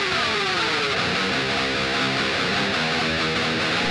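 Electric guitar played through the Auraplug Eddie vs Heaven amp plugin, a dense, loud, continuously ringing distorted tone with sustained chords throughout, no talking.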